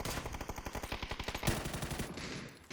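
Rapid automatic gunfire in the PUBG battle royale video game, a long rattling burst of evenly spaced shots with a louder crack midway, fading out toward the end.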